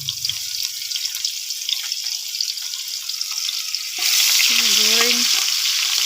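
Onions fry in hot oil in a pan for fried rice, a steady close sizzle that grows louder and brighter partway through, with faint stirring.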